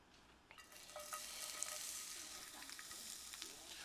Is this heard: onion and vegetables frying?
yes